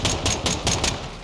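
Automatic rifle bursts ring out in a Call of Duty: Modern Warfare II firefight, five quick, loud, close cracks in rapid succession, then a short lull filled with low game ambience; no one speaks.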